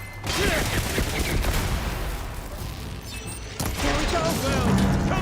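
Rapid gunfire and blasts from combat in the video game Horizon Forbidden West, a dense, continuous barrage with a brief dip midway before the shooting resumes at full intensity.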